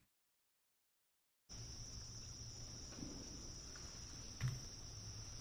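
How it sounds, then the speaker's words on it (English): After about a second and a half of silence, a steady high-pitched insect drone of cicadas fills a video game forest, continuous and even, with a faint low hum and a small bump of noise beneath it. "Did the cicadas get louder?"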